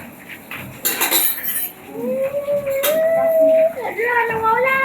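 Dishes and a cooking pot being washed at home, with clinks and scrapes of cutlery and pans close by, under steady talk.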